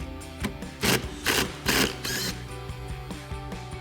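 Power driver with a T25 Torx bit backing out a screw on a Jeep Wrangler JL during a Bestop bikini top install, giving several short whirring bursts of ratcheting mechanical noise, close and fairly loud, with no speech.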